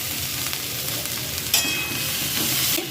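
Chopped potatoes and onion stir-fry in a pan, a steady, close sizzle broken by a sharp stirring scrape and clink partway through.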